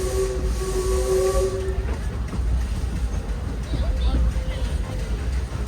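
The Disneyland Railroad train rolls along its rails with a steady low rumble and hiss. A faint whistle-like tone is heard early on, and an announcer's voice talks over the running train.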